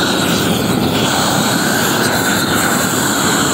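A roofing torch roars steadily and loudly as it heats the seam of Firestone torch-down roofing, a continuous close rushing blast that never lets up, with no talking.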